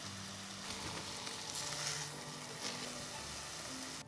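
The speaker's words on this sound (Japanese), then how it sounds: "フライパンに米油を熱したらごぼうを入れ、その上にお好み焼きを作るように山芋の生地をのせ、両面にこんがりと焼き色がつくまで焼きます。" Burdock topped with grated yam batter fries in hot rice oil in a frying pan, a steady close hiss of sizzling that carries on alone throughout.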